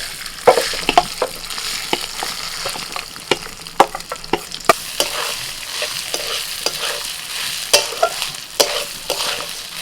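Soaked Gobindobhog rice is stirred in hot ghee and oil with bay leaf, cardamom, cinnamon and cloves. A dry, steady fry hiss runs under frequent sharp clicks and scrapes of a spatula against the pan.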